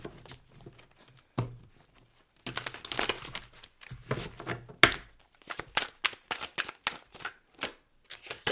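A deck of oracle cards is shuffled in quick, papery bursts, riffles and flicks coming in uneven clusters with short pauses, close and fairly quiet.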